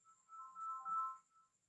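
A short electronic ringtone from a phone during a class, a faint steady tone with a brief warbling chirp in the middle, quiet and somewhat distant, no voices.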